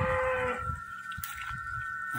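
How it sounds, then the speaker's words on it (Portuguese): Cattle on a farm moo in the late afternoon, calling toward others across the field; one drawn-out low moo fades into a second, fainter call. "Os bois estão perreando."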